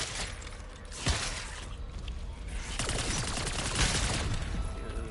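Video game gun firing in a continuous dense barrage, loud and sustained, with sharper cracks punctuating a constant wash of shots throughout.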